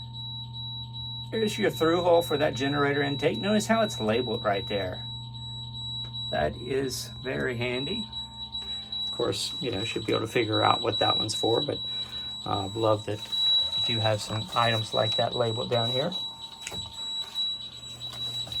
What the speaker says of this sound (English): That beeping noise you hear is actually coming from our dash.